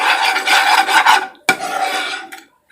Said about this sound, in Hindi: ये देखिए ये हल्का हल्का भून रहा है।